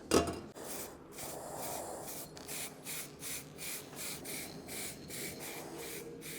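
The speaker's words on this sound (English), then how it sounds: "use a Scotch-Brite to scruff up the surface so the paint sticks to it a bit better" A Scotch-Brite pad scuffs a smooth, vapor-blasted steel part from a BMW E31 850i V12 to prepare it for paint, giving quiet, steady rhythmic rubbing strokes close up with no talking.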